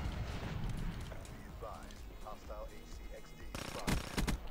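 Gunfire in a first-person shooter video game, a few sharp shots early and then a loud rapid burst near the end, heard over game background noise and faint voice-like sounds.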